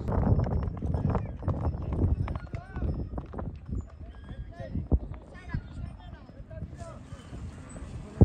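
A mare's hooves clip-clop on the ground after she is caught, a run of uneven footfalls heard close by while people talk over them.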